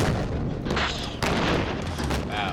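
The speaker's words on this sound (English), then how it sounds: "The ANFO went off" Cannon-fired ANFO explosive charge detonating outdoors, a loud sustained roar with heavy low rumble and a second surge partway through, no speech.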